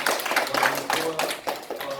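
A small group of people in a classroom claps in brief, uneven bursts, a few distinct hand claps close by, with faint voices underneath.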